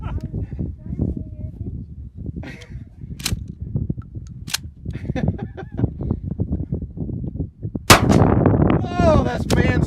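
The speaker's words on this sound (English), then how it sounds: "here's everybody else giving a try with the old one-handed Arnold style shooting" Close, loud shotgun blasts from a Mossberg 500 or Winchester 1300 fired one-handed at an outdoor range, several sharp reports scattered among excited chatter and laughter from the group.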